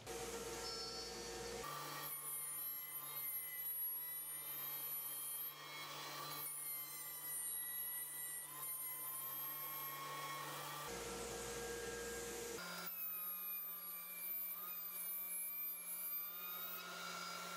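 A router table cuts slots into wood for a Shaker wall cabinet, its motor whining steadily with a high tonal pitch, broken by brief changes in tone between passes.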